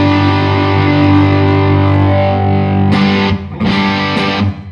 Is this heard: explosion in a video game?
no